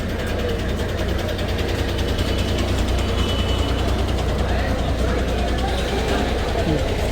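A Mangaluru–Bagalkot bus idles at the Bhatkal bus stand while reversing, its heavy diesel engine giving a loud, steady low rumble with a rattling mechanical texture, under a crowded station ambience.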